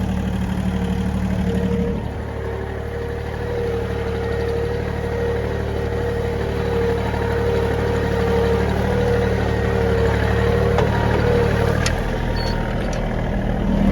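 A 23-horsepower Japanese mini tractor drones steadily and loudly up close as it plows stubble in rear-wheel drive at low revs, its engine note holding even while the wheels slip.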